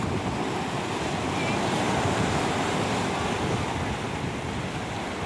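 Strong ocean surf rolls steadily against the shore near a cave on a coastal hike, a loud continuous wash of breaking waves with wind buffeting the microphone.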